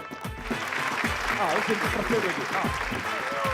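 Studio audience on a Malayalam TV game show claps together in a brisk, dense burst of applause, with voices talking over it throughout.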